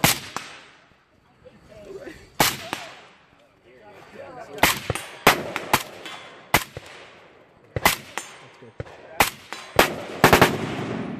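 Gunfire rings out at an outdoor shooting event in Keene, New Hampshire: sharp, loud single shots come in irregular bursts with echoing tails, while people chat quietly between them.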